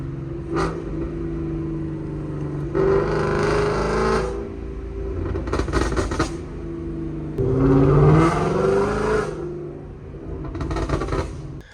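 A Mustang GT 5.0 engine revs and drops in repeated bursts, exhaust rumbling and popping on each downshift, loud and close with short gaps between.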